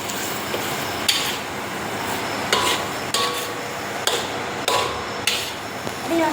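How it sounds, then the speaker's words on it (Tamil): Vegetarian mee goreng sauce being stirred in a pan, a steady scraping and clinking of a utensil against the metal with several sharp knocks at irregular intervals over a low sizzle, no talk. "நல்லா கிளறி விட்டுக்கலாங்க."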